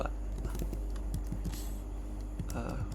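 Rapid, irregular keystrokes on a computer keyboard tap along close by over a steady low hum, with brief speech in the room.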